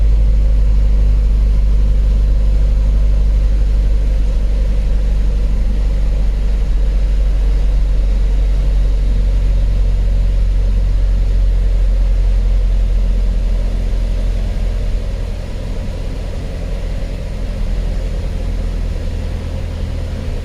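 A 2008 Mazda Mazdaspeed3 with a 2.3L engine and manual gearbox idles steadily while warming up, a loud, constant low hum with a slight dip in level near the end and no talking.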